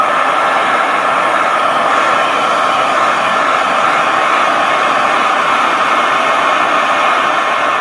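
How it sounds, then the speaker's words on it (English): A heat gun blows hot air onto a sticker on a plastic item, a loud, steady whooshing roar that holds unbroken from start to finish. "So I'm applying the heat gun, otherwise known as the Phil Smith hairdryer."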